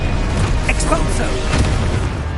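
Explosive spell impacts in a Harry Potter video game, a series of loud booming bursts over a dense, continuous game soundscape, with a sharp blast near the middle and a voice calling out spell names.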